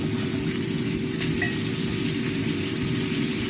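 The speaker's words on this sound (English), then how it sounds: "I'm ready to flip the steak." A steak sears in a hot pan at home, a dense steady sizzle and frying hiss running throughout, with a faint clink of a utensil as the meat is flipped.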